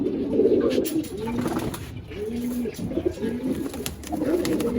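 Army pigeons give a run of deep, rolling coos, each swelling and falling in a loose rhythm, close and fairly loud against a light background murmur.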